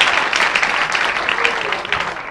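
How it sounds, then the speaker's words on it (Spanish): Audience applause at a comedy show, a dense steady wash of clapping that stays loud and continuous throughout. "Un aplauso para Pilosía!"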